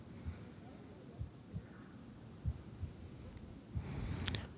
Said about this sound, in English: instead of counting sheep, you could count heartbeats?